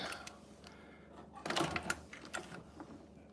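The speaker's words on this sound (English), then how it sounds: "Now, I'll add one more stitch and see what it looks like." A sewing machine runs briefly while stitching a leather bag in a leather-maker's studio, giving a short, close mechanical whir with clicks amid quiet room noise.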